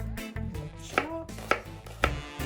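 A kitchen knife chops an onion on a cutting board, giving three sharp, evenly spaced knocks over a soft steady background hum.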